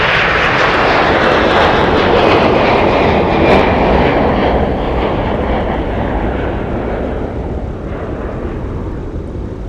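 Delta airliner departing Minneapolis–Saint Paul airport in winter, a loud broad jet engine roar that is strongest early and slowly fades as the plane climbs away.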